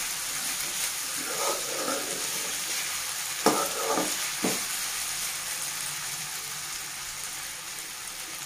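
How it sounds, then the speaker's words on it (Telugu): Potato fry crackles on a medium flame in an open pan, a soft, steady sizzle broken by a few spatula knocks and stirring clatters. "అలాగే మనం మీడియం ఫ్లేమ్లో పెట్టి ఒక 2 to 3 మినిట్స్ ఇలా ఫ్రై చేసుకోవాలండి"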